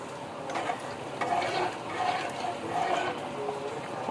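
A spoon stirs chickpea curry (cholay) with fresh coriander in a pot, giving a continuous soft scraping and sloshing with a faint sizzle underneath, steady and close.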